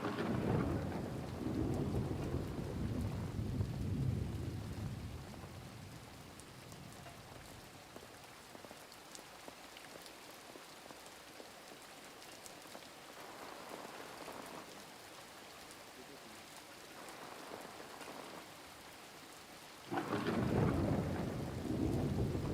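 Steady heavy rain pours down while deep rumbles of thunder roll in and swell, loudest at the start and again near the end.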